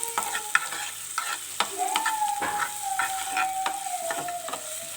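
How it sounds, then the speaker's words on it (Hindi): Small onion frying lightly in a pan, a steady soft sizzle under repeated scraping and stirring strokes of a utensil against the pan, close and fairly loud. "एक छोटे साइज़ का प्याज है जिसको हमने हल्का सा फ्राई करना, बस हल्का सा इसको फ्राई करना है।"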